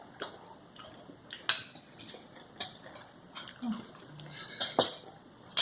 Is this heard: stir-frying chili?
yes